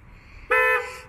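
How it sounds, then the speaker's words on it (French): A Tesla Model 3 car horn sounds once when triggered remotely, a short, loud, steady toot lasting about half a second that rises sharply out of quiet background and then stops. "Voilà, j'ai lancé un petit coup de klaxon."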